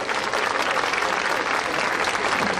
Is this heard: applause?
yes